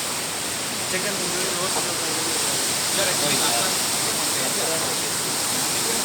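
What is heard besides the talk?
strong rushing river water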